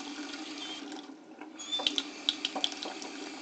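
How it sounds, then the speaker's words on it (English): A clogged Moen kitchen faucet, hot and cold both open, lets out a thin trickle of water with soft splashes and a few sharper drips near the end, quiet and close. "water open, hot and cold,"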